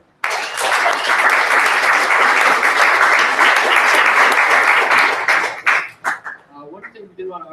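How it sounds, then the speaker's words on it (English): Dense, sustained applause from a meetup audience fills several seconds, then thins into scattered claps and fades as a few voices and small sounds remain. "So one more round of applause for Elecia."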